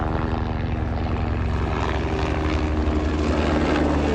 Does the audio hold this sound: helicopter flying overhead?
yes